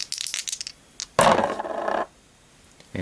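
Dice clatter and tumble across a table during an Elder Sign board game, a single close, loud rattling burst of about a second that follows brief faint handling noises.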